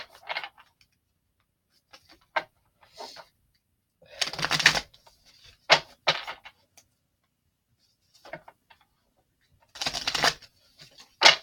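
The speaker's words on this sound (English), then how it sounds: "Shuffle the Sacred Traveler Oracle cards." Sacred Traveler Oracle cards shuffled in short, sporadic bursts of riffling and tapping, with two louder clusters of shuffling separated by quiet gaps, close by and without talk.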